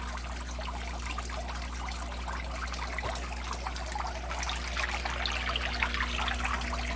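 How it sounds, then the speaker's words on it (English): Old water is poured out of a pond tank, a continuous trickling and splashing that runs steadily for several seconds over a low background hum. "I'm just gonna throw this old water out"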